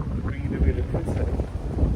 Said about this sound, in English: And it's windy and it's raining.